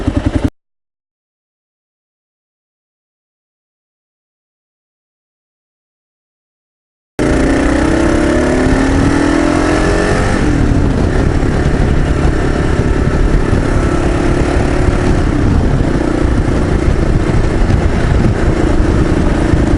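Kawasaki KLR motorcycle riding steadily with a loud, continuous engine drone and shifts in pitch as gears change, following a silent gap at the start; no talking.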